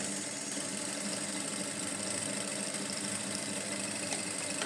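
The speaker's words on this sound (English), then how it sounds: "So I'm going to be sewing it down like this." A sewing machine stitching down a trouser pocket near the crease line, a continuous steady mechanical whirr at an even speed throughout, close and moderately quiet.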